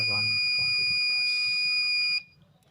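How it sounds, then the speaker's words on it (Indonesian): A multimeter's continuity buzzer sounds as its probes connect: one loud, continuous high-pitched tone held for about two seconds that then cuts off abruptly, with a voice speaking briefly at the start. "jika ada hubungan positif negatif probe ini, buzzer akan berbunyi"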